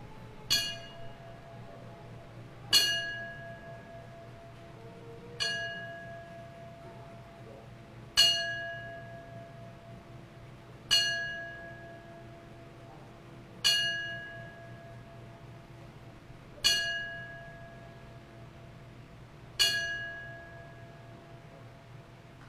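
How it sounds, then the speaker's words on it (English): A ceremonial ten-bell salute rung at a professional wrestling event: a single bell is struck slowly at even intervals, about eight strikes heard here. Each clear ring fades out over a low hum in a quiet hall. "please rise as we toll the bell 10 times, one last time, for Roddy Piper"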